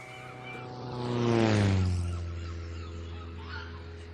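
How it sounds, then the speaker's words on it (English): A Tiger Moth propeller biplane passes overhead, its droning engine swelling to a loud peak mid-pass with a falling pitch as it moves away, over faint background sound. "That plane's making a great deal of noise"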